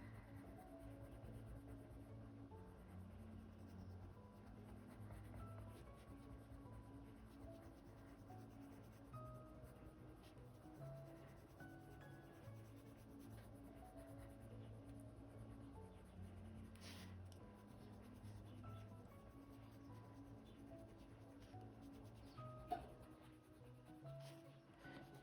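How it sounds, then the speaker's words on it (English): A white coloured pencil scratches softly across paper while shading and blending, a faint continuous rubbing in steady back-and-forth strokes, with low background hum and no talk. "going in with our white pencil, I'm going to go ahead and go over this bit here and just blend this all together"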